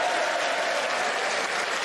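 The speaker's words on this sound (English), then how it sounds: "resounding applause from supporters" Resounding applause from supporters at a British parliamentary convention, loud and continuous clapping from a sizeable crowd throughout, with no speech over it.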